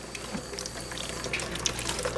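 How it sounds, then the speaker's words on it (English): Water poured into a plant pot during watering, a soft close trickle and splash with light droplet sounds over a faint low hum, no talking. "I'm just going to water until I get water popping out of the pot"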